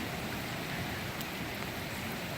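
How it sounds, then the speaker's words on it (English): Steady rain falling at Kiahuna Plantation, coming down moderately rather than hard, makes an even, continuous hiss with no pauses and no voices. "I can hear myself over the sound of the rain"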